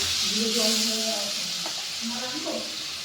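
Water poured into a pan of sizzling spices with turmeric and salt for a Bengali duck egg curry, a steady broad hiss rising then settling, with faint bubbling underneath.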